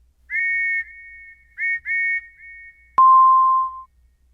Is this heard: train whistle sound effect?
yes